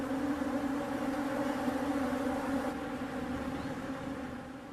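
Thirsty bees buzzing around wet towels in the wild, a steady, even drone of many insects that stays fairly soft and continuous throughout, with no voices.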